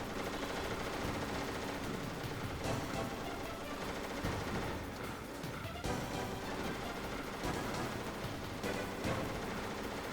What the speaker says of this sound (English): Yeah, so he never stops shooting.